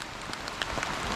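Steady rain patters down outdoors beside a pond where goldfish are being released, a dense, even hiss of drops with faint individual splashes and no voices.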